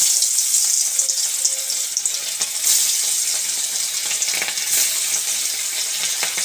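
Dela fish frying in mustard oil in a pan, a steady, close, hissing sizzle with faint occasional stirring touches and no speech.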